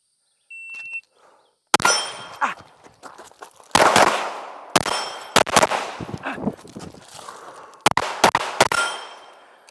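Gunshots from a range-day shooting session, sharp loud reports fired in quick bursts and doubles with brief pauses between them, each trailing a short ringing echo.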